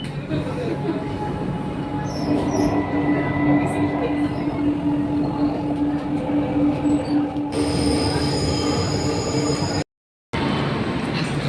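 A metro train running on the Chennai airport line, with steady broadband rumble, a sustained wheel squeal tone and a brief dropout near the end, heard from inside the car throughout.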